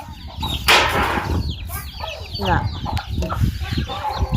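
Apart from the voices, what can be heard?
chickens clucking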